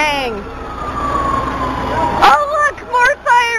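Several emergency sirens wail at a fire alarm call, one long descending tone followed by a second siren rising in and cycling, with voices talking over it.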